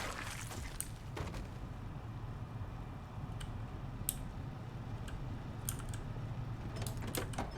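Typing on a mechanical keyboard with Cherry Blue switches, faint clicky keystrokes coming in irregular short bursts over a low background hum.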